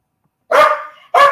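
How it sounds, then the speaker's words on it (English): A dog barks twice, close and loud, the first bark tapering into a short whine before the second sharp bark, with silence just before. "I got a dog barking in the background"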